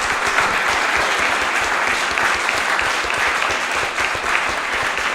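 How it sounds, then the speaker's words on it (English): A room full of people at a community film screening applauds its panellists, a dense, steady wash of clapping at moderate volume that holds evenly from start to finish. "give a great big round of applause to our panellists"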